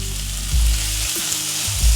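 Tomatoes hit hot oil in a pan for a sundal masala, sizzling and crackling continuously at close range with a low rumbling background.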